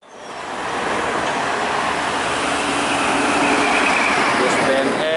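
A large intercity bus roars past close by on a straight road, a loud broadband rush that builds quickly and holds steady throughout.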